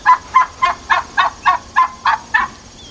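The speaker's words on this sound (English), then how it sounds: "The turkeys are up front." Turkeys up front at an off-grid homestead give a run of about nine evenly spaced, loud honking calls, close by and with no voices over them.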